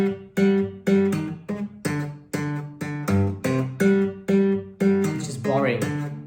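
An electric guitar plays a plain tapped melody with no string bends, a steady run of about fifteen clear, evenly spaced notes at close range, alone, with a brief sliding flourish near the end.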